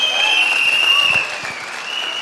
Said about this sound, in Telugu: గౌతమ్ బాలి సార్కి ఒకసారి జోరు గల క్లాప్స్ ఇద్దాం బాలి గారికి